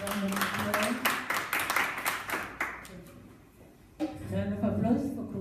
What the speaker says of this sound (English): Round of applause for Group 1